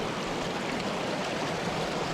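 A waterfall and stream pass nearby on a wild camping hike, making a constant wash of rushing water with no voices.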